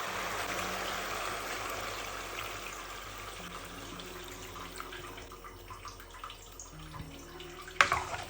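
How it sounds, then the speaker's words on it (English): Water streams steadily into a cooking pot holding turkey pieces, a continuous close pouring rush that thins toward the end, ending in a brief clank. "let's put in some water to cook it"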